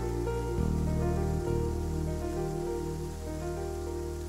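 A sudden downpour in a Tamil short film makes a steady, dense hiss of rain throughout, layered with a sustained musical drone and no voices.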